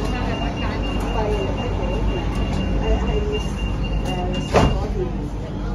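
An MTR Light Rail CRRC Nanjing Puzhen Phase V light rail vehicle running, with a steady loud rumble and hum throughout, a brief clunk near the end, and faint voices mixed in.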